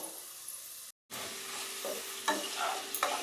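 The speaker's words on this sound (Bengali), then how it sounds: "আলু ভাজা হয়ে গেছে" Potatoes fry in hot oil with a steady, close sizzle, broken by a brief gap of silence and followed by scraping stirs and louder spatters.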